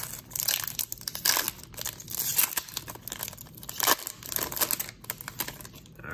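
A foil pack of 2020 Rookies & Stars football cards is torn open and crinkled by hand, giving a close, steady run of crackling and tearing with scattered crisp crunches and no voice.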